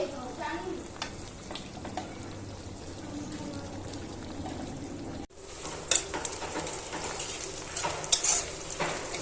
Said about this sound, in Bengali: রোস্টের জন্য পেঁয়াজটা ভেজে নিচ্ছি।